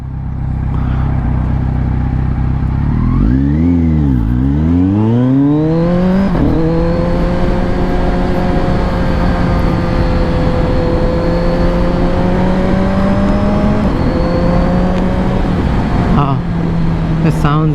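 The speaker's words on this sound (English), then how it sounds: "I can hear that exhaust all day long." A motorcycle fitted with an Akrapovic carbon exhaust revs twice, then pulls away and holds a loud, close, throaty drone while riding, with a voice briefly heard under it.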